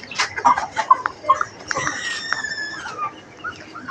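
A small broody hen shut in an enclosure makes soft, irregular clucks and murmurs close by, with some sharper calls and other farmyard poultry sounds faintly in the background.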